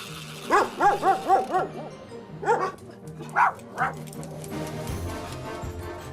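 Household dogs barking at a door during a training session: a quick run of five sharp barks, then two or three more spaced out, with indoor room noise after.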